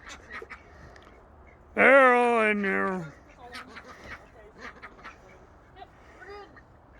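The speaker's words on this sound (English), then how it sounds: "A bunch of noisy ducks tonight." Ducks in a pen let out a loud, close burst of harsh quacking that lasts about a second, then fades to scattered softer calls, with people talking nearby.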